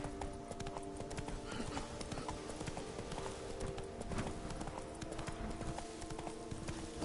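Hooves of the horse Roach clip-clop steadily at a gallop in The Witcher 3: Blood and Wine, a continuous rhythmic beat at moderate volume across the whole stretch.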